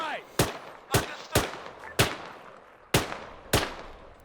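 Gunfire in the military shooter Arma 3: six sharp, loud single shots spaced about half a second apart, each ending in a short echoing decay over a quiet outdoor ambience.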